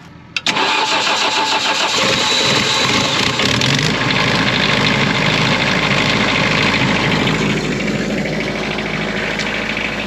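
A Spra-Coupe liquid fertilizer sprayer's engine cranks briefly, then catches and roars into a loud, steady run close by, settling into a continuous idle with no talk over it.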